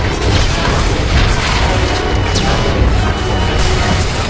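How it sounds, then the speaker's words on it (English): Heavy booming cannon blasts from an Annihilation droid in the SWTOR video game, loud and sustained with crashing impacts and rumbling battle noise throughout. "Another swing from the Annihilation droid's cannon sends the Juggernaut flying."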